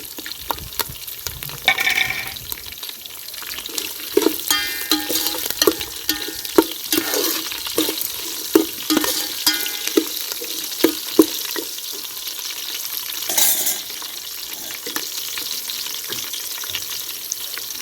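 Curry leaves, green chilies and onions fry in a pan for upma, giving a busy sizzle and crackle punctuated by stirring scrapes and clatter, loud and close throughout.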